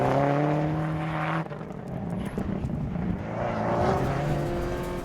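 A Subaru Group N rally car drives with a loud, sustained engine note that holds steady, drops off briefly, then builds again as it revs through the gears.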